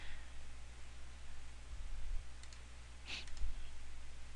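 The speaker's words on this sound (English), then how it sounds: "So click on that and then click open." A computer mouse gives a couple of faint, sharp clicks over a steady background hum while someone works in design software on a Farnsworth House model.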